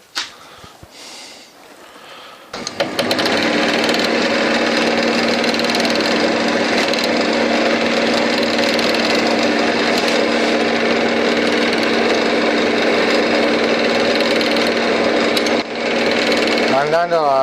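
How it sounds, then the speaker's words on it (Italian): Wood lathe turning with a skew chisel: after a short quieter opening, a loud steady whirring, rasping drone starts abruptly and runs on continuously, up close, with a brief dip near the end. "Ora vi faccio vedere un po' come funziona lo scalpello obliquo."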